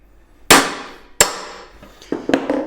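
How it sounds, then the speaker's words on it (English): Hammer striking a Tork Craft impact driver to loosen a stuck fastener: two sharp, loud metallic blows about a second apart, then quicker lighter taps and clanks as the fastener breaks free. "you could hear the sound there, that's this fastener breaking free"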